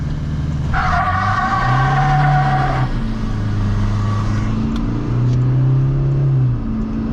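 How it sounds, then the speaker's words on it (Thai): A Toyota Hilux Revo 2.8 automatic turbo pickup truck engine revs hard with tires spinning and squealing, the pitch rising and falling in long sustained surges, loud and close. "ฟังเสียงยางฟรีนะครับ"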